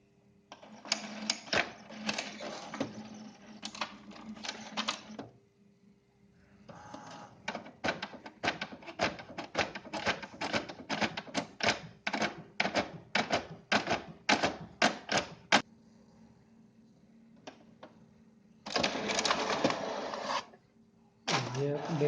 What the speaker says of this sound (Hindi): तो देखिए प्रिंट आउट कर रहा है